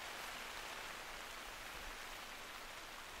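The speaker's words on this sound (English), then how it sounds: "that soft pitter-patter rain" Soft, steady rain falls in a wintry hunting landscape of theHunter: Call of the Wild, a continuous hiss of pattering drops at even loudness with no voices.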